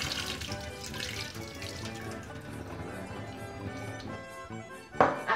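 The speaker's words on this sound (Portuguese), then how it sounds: "nós vamos tirar essa água que foi de um dia pro outro" Overnight soaking water poured off white hominy corn into a kitchen sink, a steady rushing splash with a brief louder slosh near the end, no talking.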